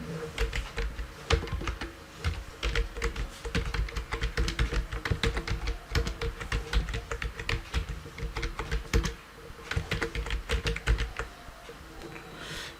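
Rapid typing on a computer keyboard, dense irregular clicks and key taps close by, continuing steadily with short pauses and no talking.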